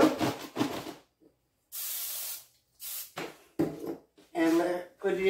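Cooking oil sprays from a can onto breaded okra in short, close hissing bursts, about four or five of them, with gaps of silence between and talk in between.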